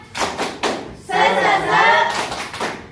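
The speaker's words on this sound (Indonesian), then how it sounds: "Coba, tepuk semangat." A classroom group doing a rhythmic 'spirit clap' in unison, several sharp close claps in a quick pattern, mixed with children's chanting voices.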